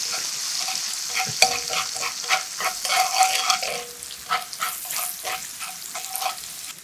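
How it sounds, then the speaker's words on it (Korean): Browned garlic stir-fried with soy sauce, oyster sauce and chili flakes to make chili oil, a close crackling sizzle broken by repeated spatula scrapes and clacks against the pan, with no talking. "마늘이 갈색이 돌면 진간장 1스푼, 감칠맛 담당 굴소스 1스푼, 칼칼하게 고춧가루 1스푼 넣고 충분히 볶아 고추기름 내주고"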